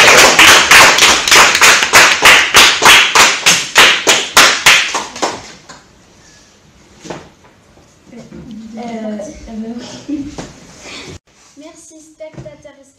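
A burst of rhythmic clapping, fairly loud and steady, dies away after a few seconds, leaving background murmur and voices talking.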